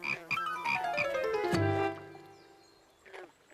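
A frog croaks near a pond where tadpoles swim, a short run of quick croaking calls followed by a longer descending croak, fairly close and clear, then a faint call near the end.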